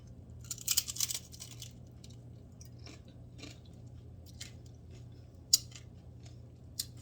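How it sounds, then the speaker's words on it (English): Crunching bites into a crisp homemade breakfast tostada, with a cluster of loud crackly crunches near the start, then quieter chewing and a couple of sharp isolated snaps over a steady low background hum. "you hear how crunchy it is?"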